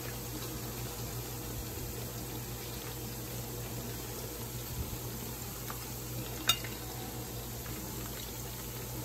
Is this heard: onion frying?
yes